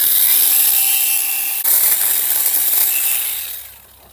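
A pruning cut through a fig tree branch gives a continuous, close, hissing rasp with a single sharp snap partway through, then the sound fades away.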